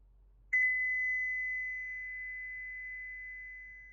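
A pure 2 kHz sine tone starts suddenly and holds steady, slowly fading over a few seconds, clean and alone against near silence.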